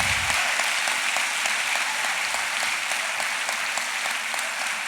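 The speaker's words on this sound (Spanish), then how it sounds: "Yo creo que eso merece un aplauso" Sustained applause from a large church congregation at an anniversary service, dense steady clapping filling the whole stretch with no break.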